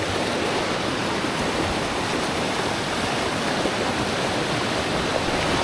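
A mountain stream flowing along a hiking trail in the Mont Blanc area, a steady broadband rush of water that stays loud and unchanging throughout.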